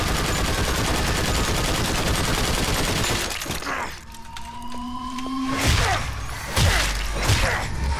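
Gunfire in the Wolfenstein 2 video game, a loud sustained volley of rapid shots for several seconds, followed by quieter mechanical clanks and a couple more bursts, with a voice briefly over the action.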